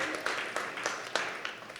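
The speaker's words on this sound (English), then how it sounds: "Let's get a round of applause for Pearl Semiconductor." Audience applause at a startup pitch showcase, scattered claps forming a moderate, steady patter in a conference hall, with faint talk underneath.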